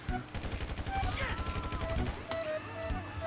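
Rapid automatic gunfire rattles continuously in GTA V, a dense rhythmic burst of shots with scattered impacts and brief tonal game effects layered over it.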